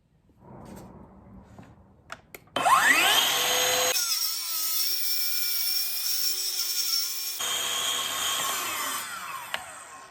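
A power saw spins up with a rising whine, then cuts through a wood piece for a DIY radiator cover in a loud, steady buzzing stretch, drops in pitch partway, and winds down at the end after a few quiet clicks.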